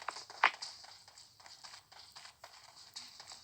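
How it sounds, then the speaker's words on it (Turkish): Rapid scuffing footsteps from the video game PUBG patter steadily under a hissy, noisy game background, with one sharper click near the start. "Duydum ayak sesi."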